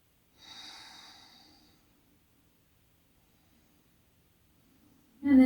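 A single long, airy exhale through the nose during a yoga pose, near and soft, followed by silence and then a sudden sharp intake of breath at the end.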